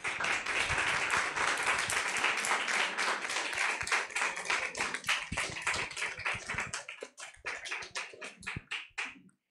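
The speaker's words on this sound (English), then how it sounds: "Please give them an applause." Audience at a debate competition applauding both teams, dense clapping that holds steady and then thins into scattered individual claps before stopping.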